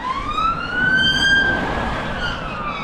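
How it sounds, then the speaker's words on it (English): An ambulance siren wails and sweeps past on a wet road near Upshire and Epping, rising then slowly fading over steady traffic rumble, with no talk. "No, it's an ambulance."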